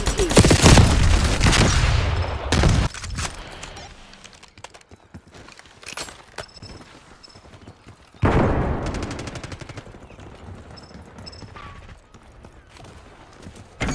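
Gunfire in Call of Duty Black Ops 6, with loud dense bursts at the start and again around the eight-second mark, then scattered sharper shots and lighter clatter between them.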